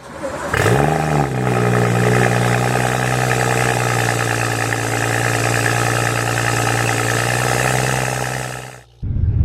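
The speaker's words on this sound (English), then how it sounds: "this is a cold start on a BMW M235 2016" A 2016 BMW M235i cold-starts with a sharp crank and flare of revs, then settles into a loud, steady high idle heard up close for several seconds before cutting off abruptly.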